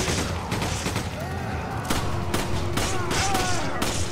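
Gunfire from the video game Resident Evil 5 rings out as a string of sharp, irregular shots over continuous in-game background noise.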